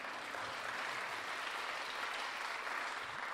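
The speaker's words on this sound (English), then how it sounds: "clap for that" An audience at a national convention session claps in a sustained, even wash of applause, fairly distant and steady throughout, with no speech breaking through.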